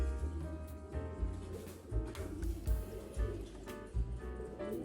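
A homing pigeon coos inside a loft, low repeated throaty calls close by amid a busy murmur of other birds in the pigeon house.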